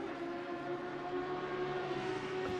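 KTM race car engine in a racing video game during a four-hour endurance race at Monza, holding a steady, sustained droning whine with no clear revving changes across the stretch.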